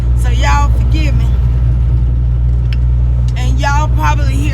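A truck's engine drones low and constant from inside the cab while driving, a heavy steady rumble running throughout beneath bursts of voices.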